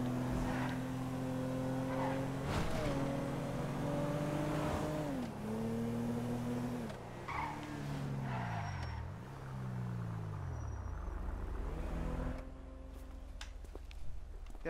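A fast car racing through the streets in GTA 5, its engine droning loud and steady with rising and falling revs as it accelerates and shifts, a constant close roar throughout.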